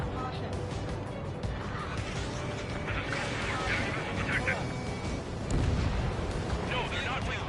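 Missile launches and explosions rumble through an Ace Combat 7 air mission, a dense run of booms and roaring blasts with radio voices talking over much of it.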